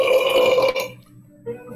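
A loud, drawn-out burp sounds close by and lasts under a second, then trails off into quiet before a short faint noise at the end.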